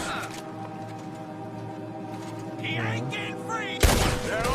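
Gunfire from a weapon in Red Dead Redemption 2: a sharp, loud shot bursts in near the end after a stretch of quieter game ambience and tonal music, with a person speaking in the background.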